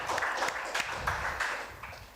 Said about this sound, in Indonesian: Mari kita berikan tepuk tangan yang meriah sekali lagi untuk guest dan host kita hari ini.